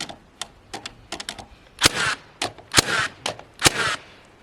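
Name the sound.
nail gun shooting into cabin roof sheeting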